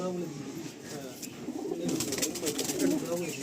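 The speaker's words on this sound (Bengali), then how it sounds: "পুরো তীরা বাঁধানো পায়রা।" Soft, repeated throaty coos from long-size Kaldom pigeons rise and fall close by, growing a little busier toward the end, with faint talk in the background.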